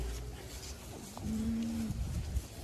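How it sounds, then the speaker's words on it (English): Cattle in a pen, including steers, bulls and heifers, with a single low, drawn-out moo heard close by over a quiet farmyard background. "Couple steers in here, couple bulls. The rest are all heifers."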